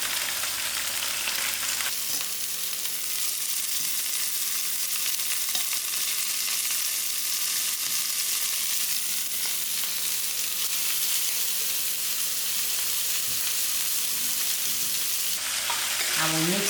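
Young green beans, freshly cut and rinsed, fry in a pan for a green bean and pea masala and are stirred. A steady, close sizzle runs throughout with soft scraping stirs and no talking.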